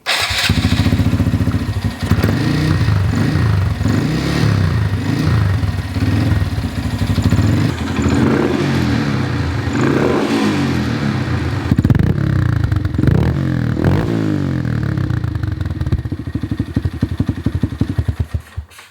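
A Honda Grom motorcycle engine runs loud and close, its putter unsteady and wavering as it struggles to hold an idle, with no talk over it.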